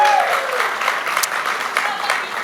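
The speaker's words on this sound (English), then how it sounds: "I think that deserves a big round of applause." A crowd at the Indian Film Festival of Melbourne flag hosting breaks into loud, dense applause that stays full and steady throughout, with faint crowd noise mixed in.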